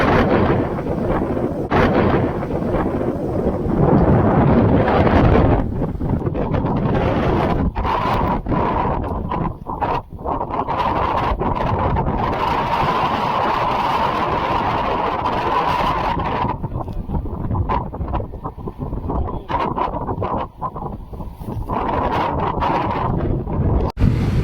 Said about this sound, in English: That was a squall